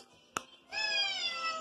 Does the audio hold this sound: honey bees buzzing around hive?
no